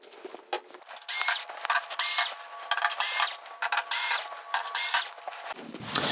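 A powered screwdriver whirs in short repeated bursts as it backs screws out of the main board of a VIZIO D40F-G9 television. The bursts are close and fairly loud, with brief pauses between them and no talking.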